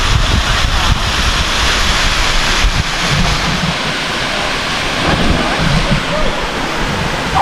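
Waterfall at Galvin's Gorge on the Gibb River Road, water pouring off the top near a boab tree, a loud continuous broadband rush with wind buffeting the microphone.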